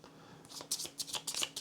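Skill cards for the board game Warp's Edge are shuffled by hand in quick riffling bursts, close and crisp, with no talking.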